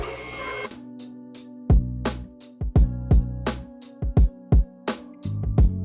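A car lift raises an S550 Mustang GT: a brief motor hum, then a run of sharp, evenly spaced mechanical clacks with ringing tones, loud and close, roughly one every half second.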